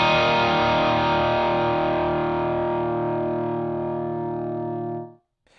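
Electric guitar through a Franklin Pedals ProDrive V2 overdrive pedal: one strummed chord with a thick, distorted tone that rings loud and sustained for about five seconds, then cuts off sharply, with no talking.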